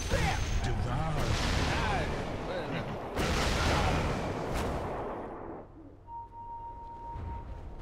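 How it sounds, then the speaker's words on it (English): Rocket barrage ability in Dota 2 fires a rapid flurry of loud impact blasts for several seconds before fading, with game voices and effects mixed in. "Rocket barrage!"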